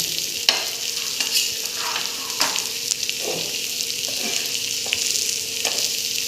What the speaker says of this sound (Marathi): सगळे मासे आपण असे घोळून घेणार आहोत आणि कढईला लावणार आहोत